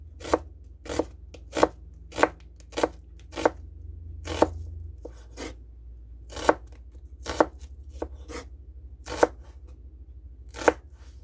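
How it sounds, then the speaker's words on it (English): A knife cuts low-carb pita bread pieces thinly on a cutting board, with about fourteen crisp, close knocks in an uneven rhythm and quiet pauses between them. "Now I'm going to cut these thinly."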